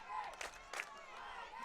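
An almost full crowd of Tigers fans at a high school football stadium in Fort Scott, roaring in a steady wash of noise with two brief louder cheers swelling out of it.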